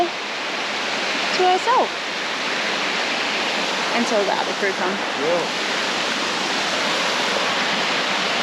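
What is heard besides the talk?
waterfall in the Kimberley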